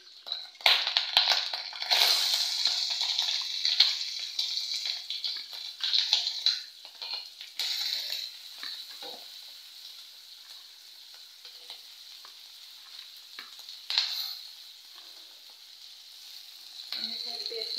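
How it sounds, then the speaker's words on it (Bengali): Onions and chillies frying in a pan, with a steady sizzle that is loudest in the first seconds, drops to a lighter crackle, and flares again with stirring near 14 and 17 seconds; no talk. "এখানে আমি একটু হালকা পাতলা ব্রাউন কালার আর লাল লাল করে ভেজে নিতে হবে"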